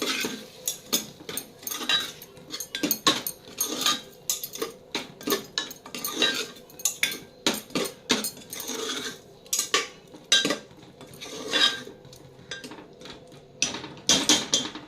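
A chickpea vegetable dish stirred in a pan with a metal spoon, giving repeated sharp clinks and scrapes in an uneven rhythm, close and fairly loud with no talking.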